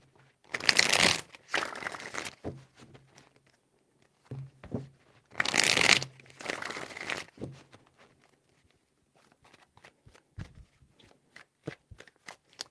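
A deck of tarot cards is riffle-shuffled up close, with two loud bursts of rapid flapping, each followed by softer handling taps and clicks, in a quiet room.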